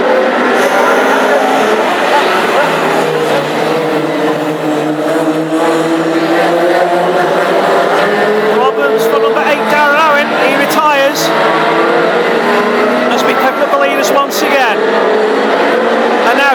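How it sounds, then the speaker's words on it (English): Classic hot rod race cars at Hednesford roar down the back straight in a sustained, loud engine drone that rises and falls as cars pass, with a commentator talking over it throughout. "chasing after Owen in car 88 as they go down the back straight"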